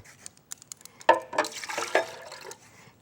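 Two cups of water are poured during food preparation, giving a quiet run of soft drips and splashes that swells into a brief trickling pour and then fades, heard close and faint.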